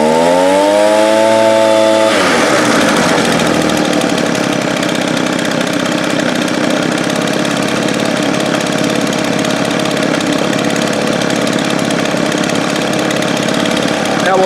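A small two-stroke leaf blower engine, just fitted with a rebuilt fuel system and adjusted carburetor, starts with a brief rising whine and then roars steadily at high throttle. It is loud and close throughout, with no voices.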